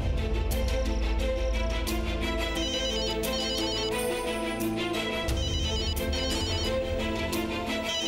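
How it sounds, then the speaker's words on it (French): A telephone rings on and on without being answered, a loud steady electronic ringtone pattern that repeats in regular bursts, with no voices. "Décroche le téléphone,"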